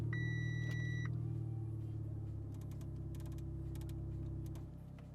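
A 2011 Audi A4 widebody engine idles with a low, steady rumble, while a few electronic dashboard chimes sound near the start and faint clicks come from inside the cabin.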